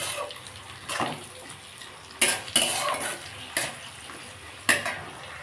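Onions frying in a pan with sugar and tomato for a mutton curry, a low sizzle broken by several sharp metal utensil clanks and scrapes against the pan, with no talk.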